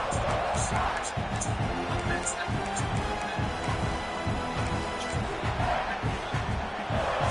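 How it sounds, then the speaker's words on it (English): A football stadium crowd roars at full voice, a dense, sustained wall of cheering that fills the whole stretch, with a commentator's voice partly audible beneath it. "This crowd, full throat, splitting the eardrums"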